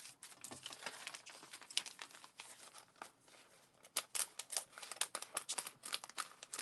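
Leftover craft packaging being cut at a crafting table, giving close, quiet crinkling and snipping with irregular bursts of rustle and small taps, with no voices.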